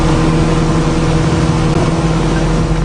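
A speedboat engine roars loudly and steadily, a constant close-up drone that fills the whole clip without any voices.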